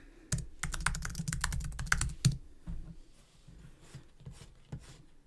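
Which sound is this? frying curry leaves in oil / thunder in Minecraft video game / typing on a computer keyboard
typing on a computer keyboard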